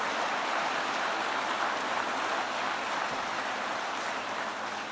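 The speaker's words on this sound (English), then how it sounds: "Let's get a round of applause for the great Secretary of Labor." Political rally audience in Howell, Michigan applauding the Secretary of Labor, a steady dense wash of clapping that holds evenly throughout at moderate distance with no voices on top.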